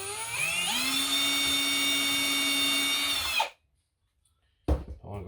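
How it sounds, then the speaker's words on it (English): A power drill with a small bit whines steadily for about three seconds while pre-drilling holes for shelving screws, then stops abruptly. After a silence comes a brief clatter of handling noise. "we're going to pre-drill some holes for these little guys just to make life easier"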